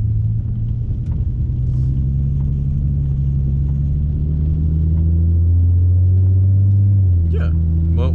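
A Ford Mustang 3.7 l V6 of 305 hp hums with a loud, steady low rumble from inside the cabin on a test drive, the engine note rising briefly near the end.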